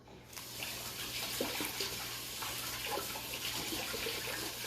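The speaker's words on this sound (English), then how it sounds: "I'm gonna rinse my hands off now." Tap water runs steadily into a sink while hands are rinsed, a continuous close splashing stream with slight shifts as the hands move under the flow.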